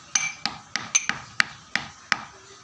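Hard mustard oil cake is pounded into powder for tomato plant fertilizer, giving eight sharp, evenly spaced knocks at close range.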